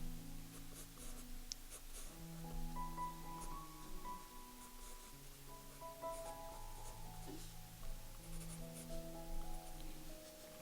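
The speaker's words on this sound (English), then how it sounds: "Heavier pressure on the pencil." A graphite pencil shades an owl drawing on paper under heavy pressure, giving a steady, close, scratchy rasp of continuous strokes that runs throughout, with soft tonal music beneath.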